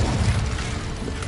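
The Incendio fire spell cast in Hogwarts Legacy, a dense, loud whooshing roar of flame with a low rumbling body, sustained steadily for about a second with no voices.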